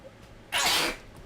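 A single sharp human sneeze, close and loud, bursting out after a quiet moment and fading within half a second.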